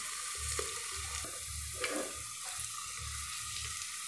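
Crushed garlic, ginger and green chili fry in a pan of oil for a mutton dish, giving a faint, steady sizzle with occasional soft stirring scrapes and no talking.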